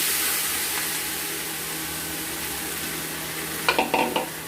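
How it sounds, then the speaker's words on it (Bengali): Fish fries in hot oil in a pan as a steady, fairly loud hiss and crackle. A short burst of stirring scrapes comes near the end, and nobody talks. "ভেজে নিয়েই যখন লাল লাল হয়ে যাবে, তখন আমরা মাছগুলো ছেড়ে দেব"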